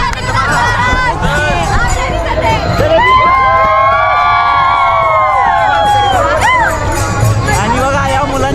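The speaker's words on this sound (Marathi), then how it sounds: "आणि बघा या मुलांचा जल्लोष पावसातही आहे." Children shout and cheer in the rain among a large crowd at the Pandharpur Wari pilgrimage during the Chandoba Limb ringan, their loud, rising voices ringing close over constant crowd hubbub.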